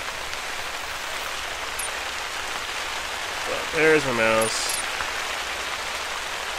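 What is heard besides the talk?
heavy rain in video game The Hunter: Call of the Wild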